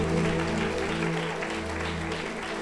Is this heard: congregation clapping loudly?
yes